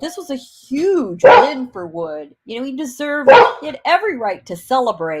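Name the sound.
dog barking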